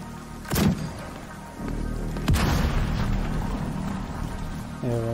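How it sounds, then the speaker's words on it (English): Artillery explosions in The Division 2 in New York, two heavy booms about two seconds apart over a rumbling background, followed by a lower steady din. "try hitting them instead of wasting valuable artillery"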